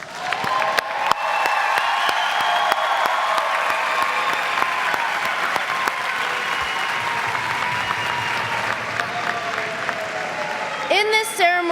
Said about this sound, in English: I would like to lead one more round of applause for all our graduates.